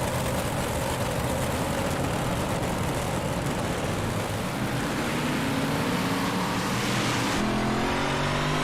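Stock race cars from a Thunder Racing League event in the iRacing video game at Lucas Oil Speedway roar in a pack, a dense, sustained engine drone whose pitch rises and falls as they accelerate, with no talk over it.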